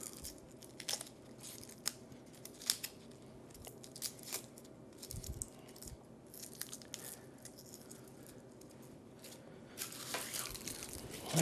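A knife cuts a shallot and the papery skin is peeled away, giving faint, close crisp cuts, crackles and tearing in irregular bursts with small clicks, against quiet kitchen background.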